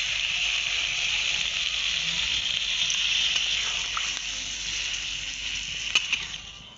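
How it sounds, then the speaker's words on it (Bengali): Steady hissing sizzle from a pan of potatoes and cauliflower cooked down with spices as water goes in, with a faint splash and a few soft clinks near the end; no one speaks. "এবার আমি জল দিয়ে দেবো।"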